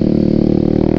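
Loud, close revving of a Kawasaki ZX6R motorcycle fitted with an aftermarket Muscov exhaust, a dense buzzing engine drone held steady for about a second with no talk.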